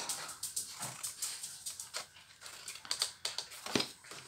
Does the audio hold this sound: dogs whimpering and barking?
yes